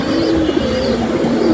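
Pet pigeons at a house coo steadily and close by, low rolling calls running continuously with no talk over them.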